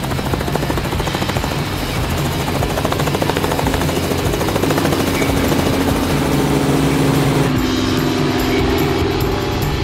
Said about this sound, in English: Dakota Meyer flew his helicopter over here